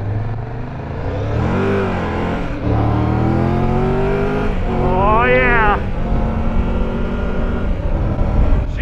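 A Triumph Tiger 1200 Rally Pro three-cylinder motorcycle engine revving and accelerating through gears, rising whines, loud and close, with a voice talking over it at times.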